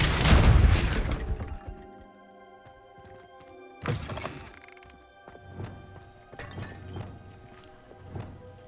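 Repulso spell cast in the Hogwarts Legacy video game, a loud whooshing thud up front followed by softer knocking impacts and a lingering game ambience.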